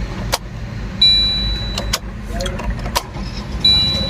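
A car running low on fuel gives off a steady, low engine rumble, with a few sharp clicks and people talking over it.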